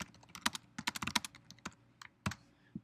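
Keys clatter on a computer keyboard in quick irregular bursts of close, crisp clicks, with short pauses between runs; no one speaks.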